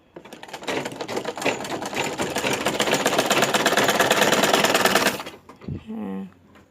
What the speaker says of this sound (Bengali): আমরা অল্প অল্প করে ভাজিয়ে নিয়ে সেলাই করে যাব।